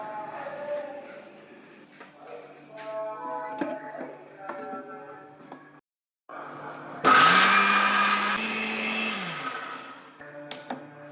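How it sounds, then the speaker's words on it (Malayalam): A kitchen mixer grinder grinds soaked broken wheat, its motor starting abruptly as a loud, steady whine that runs for several seconds before winding down. Quieter background sounds and faint voices come before it. "ഇതേപോലെ വെള്ളത്തിലിട്ട് കുതിർത്തിയെടുത്ത് മിക്സിയിലിട്ട് അരച്ചെടുക്കാം"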